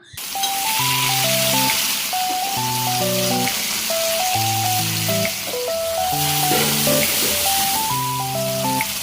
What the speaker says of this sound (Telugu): బాండీలో తగినంత ఆయిల్ వేసేసి పచ్చిమిర్చి కూడా ఇలాగ వేసేసి కొంచెం దూరగా వేగిన తర్వాత ఇలాగ ఒక 4 టమాటా పండు ముక్కల్ని ఇలాగ కట్ చేసి వేసేసాను